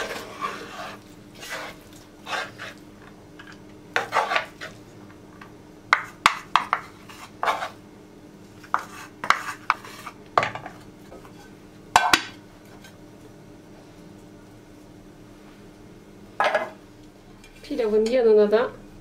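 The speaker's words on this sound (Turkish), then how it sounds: "Hemen ardından pirinç pilavını da şöyle bir karıştırayım." A spoon scrapes and clinks against a metal pot while rice pilaf is stirred in a kitchen, with irregular bursts of clattering through the clip and a brief harmonic squeal near the end.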